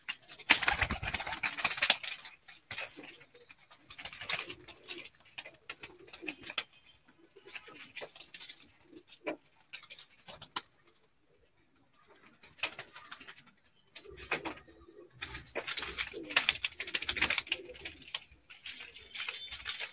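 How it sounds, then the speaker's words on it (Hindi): Teddy pigeons coo in bursts of repeated, rolling calls, with a short quiet gap near the middle before the cooing picks up again. "ये बड़ा कबूतर है जी टेडी, जिससे ब्रीड तैयार की है।"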